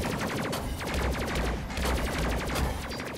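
Rapid missile fire against a ship in the space combat game Space Crew, a dense, continuous volley of sharp repeated blasts rattling loudly throughout with no pauses.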